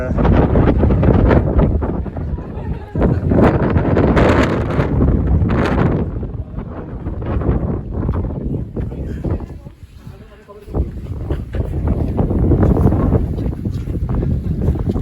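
Strong wind on a mountain bald, a loud continuous roaring buffet across the microphone that rises and falls in gusts, with a person talking under it.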